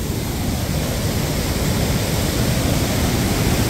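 Water pouring over a rock cliff at Kaanuru (Devkar) Falls near Yellapur, a steady, dense roar of falling water that stays loud and unbroken throughout, with no voices.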